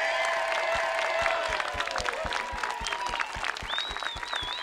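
Sustained audience applause at the opening celebration of the Tom Lantos Tunnels at Devil's Slide, a dense steady clapping crowd with tonal sounds from the venue layered over it.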